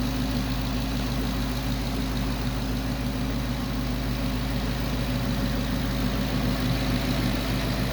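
A 2011 Ford Mustang GT Premium California Special with its 5.0-liter engine idles close by, a steady, even low rumble that holds without change.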